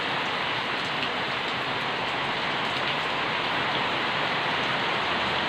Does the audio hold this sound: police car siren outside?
no